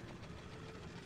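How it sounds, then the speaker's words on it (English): Train passing in the video game Little Nightmares, heard as a faint, steady, low mechanical rumble with no voices over it. "Oh, a train."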